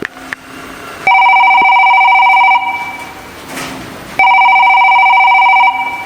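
A telephone rings in two long electronic bursts, each a bright steady tone lasting over a second, separated by a quiet gap with some faint rustling and background noise.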